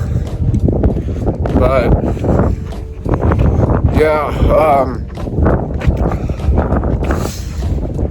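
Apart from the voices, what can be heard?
cold wind blowing during outdoor dog walk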